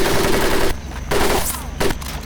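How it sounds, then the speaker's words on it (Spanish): Bursts of live-ammunition machine-gun fire from Medal of Honor: Pacific Assault, two loud rapid volleys split by brief quiet gaps. "Cuidado, que esa es munición real, Mírenlos disparando nada más"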